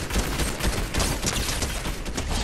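Gunfire in a shooting video game, a dense, continuous crackle of rapid shots, loud and close with no pauses.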